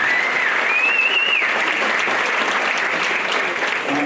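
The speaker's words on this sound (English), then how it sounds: "Give them another big round of applause." Loud, steady applause from a concert audience for a school band, many hands clapping evenly throughout, with a brief whistle-like tone early on.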